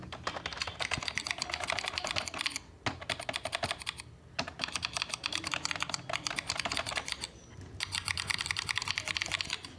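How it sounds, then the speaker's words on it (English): Rapid clacky keystrokes simulated by software and played through a computer speaker, mechanical-keyboard style with PBT keycap sound, come in bursts with short pauses between them, crisp and close. "it gives you a real feeling of that you are typing on a mechanical keyboard"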